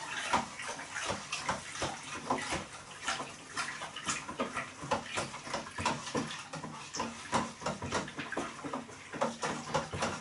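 Sugar is stirred by hand into a home-brew pilsner lager mixture, a steady run of wet sloshing and swirling liquid strokes, close and moderately loud, with no talk over it.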